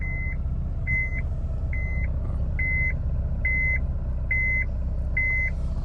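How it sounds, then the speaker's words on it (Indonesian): Evenly spaced electronic beeps from a Honda Fit reversing repeat about seven times over a low idling engine hum, a steady reversing warning pattern. "Saat mundur bunyinya juga beda, bip-bipnya beda ya."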